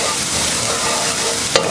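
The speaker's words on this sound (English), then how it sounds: "Just give it a quick sizzle." Garlic sizzles steadily in a frying pan, an even close crackle and hiss with a brief clink near the end, no talking.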